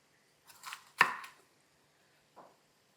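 A knife cutting capsicum into long strips on a board, a few separate close chops with one sharp cut standing out, then a softer final stroke.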